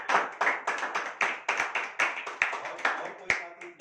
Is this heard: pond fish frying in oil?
no